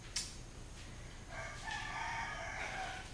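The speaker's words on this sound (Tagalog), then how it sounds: "Tumilaok na ang manok." A rooster crows faintly in the distance at a townhouse, one drawn-out call rising over a quiet background hum.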